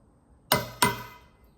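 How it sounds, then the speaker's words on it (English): Two sharp metallic clangs about a third of a second apart, a hammer striking a seaming tool laid over sheet metal to form a crimp seam, each hit ringing briefly before fading. "put it over that and hit it with a hammer"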